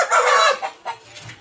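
Palakkadan native chicken, a tall, fairly large breed, gives a loud close burst of clucking, then quieter clucks and low calls trailing off.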